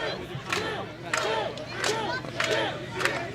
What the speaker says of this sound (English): You hear the dueling chants from the crowd.